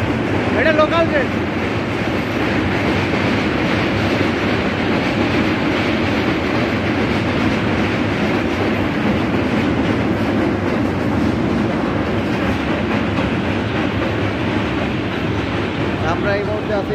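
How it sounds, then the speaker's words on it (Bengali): A local train crossing the 200-year-old British-built Hardinge Bridge, heard from underneath: a continuous loud rumble and rolling clatter of wagons throughout, with faint voices in the background. "হার্ডিং ব্রিজ দিয়ে ট্রেন যাচ্ছে।"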